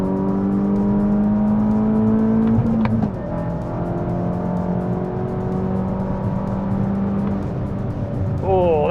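A VW MK6 GTI with an aftermarket turbo downpipe accelerating in third gear, heard from inside as a loud steady engine drone rising in pitch, with a brief dip near the middle.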